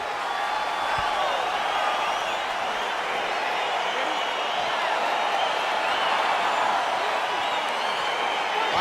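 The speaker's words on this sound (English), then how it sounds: "crowd getting excited as this fight gets underway" Steady, dense crowd roar from a UFC 4 video game arena as a fight between Alex Pereira and a prime Anderson Silva gets underway, a continuous cheering wash holding at an even level throughout with no clear voices standing out.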